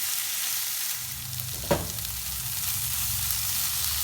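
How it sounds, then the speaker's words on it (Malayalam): Bitter gourd sautés in plenty of oil in a pan, giving a steady, close sizzle with one brief clink of a utensil partway through. "ഞാൻ ഈ കൈപ്പയ്ക്ക വരട്ടിയപ്പോൾ ഒത്തിരി എണ്ണ കൂടെ ഒഴിച്ചു കൊടുത്തായിരുന്നു"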